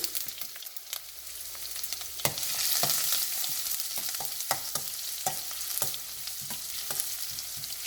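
Crushed ginger hits hot oil with mustard seeds, giving a continuous close sizzle broken by sharp pops and spatters, plus occasional spoon scrapes in the pan.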